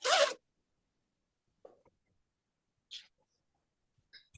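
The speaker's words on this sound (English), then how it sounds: "Now I gotta unzip my bag" A bag zipper is pulled open in one quick, close, rasping burst, followed by a few faint soft handling clicks and rustles in an otherwise quiet room.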